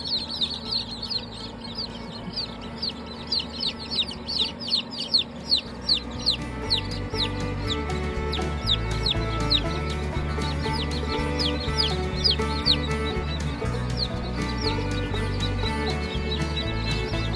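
Shipped baby chicks under a heat plate chirp incessantly in dense, overlapping high peeps, close by and loud, running steadily through the whole stretch with no talking.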